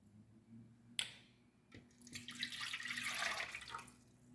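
Water is poured into a container to mix a one-litre all-purpose cleaner: a sharp knock, then a rising, splashing pour that swells and fades, fairly close and quiet.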